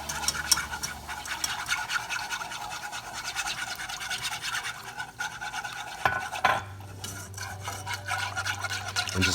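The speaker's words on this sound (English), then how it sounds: "just constantly stir until that heavy cream becomes thick with that roux I had in there" Heavy cream is stirred into a roux in a pan, making soft, continuous scraping and rubbing strokes close by, joined partway through by a low steady hum.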